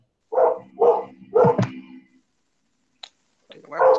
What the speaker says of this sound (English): Is that your dog, Michael?